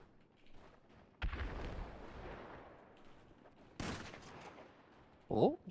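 Two booming shots from a beanbag shotgun in a video game, each with a sharp onset and a long rumbling tail, followed by a brief thud, with no talking.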